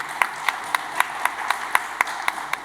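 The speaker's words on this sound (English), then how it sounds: "Now this is a time for a big round of applause for entire team over here." Claps ring out at a panel session on infrastructure and logistics in India, sparse and evenly spaced like a small group or a single person clapping in a steady rhythm, at moderate volume in a reverberant hall.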